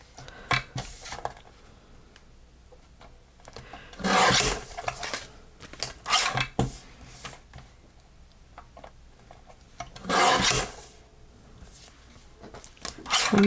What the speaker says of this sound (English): Let's get this out and trim this off.